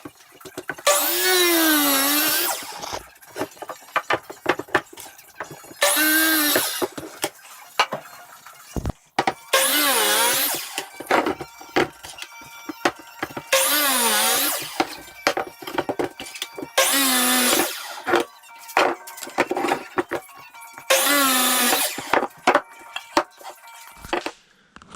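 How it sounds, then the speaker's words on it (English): A miter saw makes crosscuts in wooden boards for a pantry door: six separate loud whining bursts, each spinning up, biting through the wood and winding down, with short gaps of clatter and handling noise between cuts. "got all the cross cuts done on the old miter saw"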